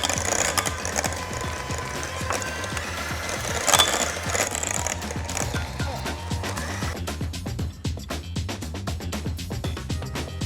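A hand mixer beating cake batter for a cinnamon-bun-flavoured cake with cream cheese frosting, a steady, close motor whir with rattling texture that barely changes throughout.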